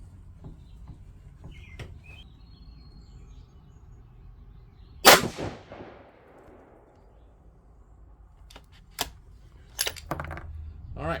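A single sharp, loud 6.5 Creedmoor rifle shot firing a 123-grain ELD-M load outdoors, with a brief echoing tail, set among quiet ambient noise and a few faint clicks.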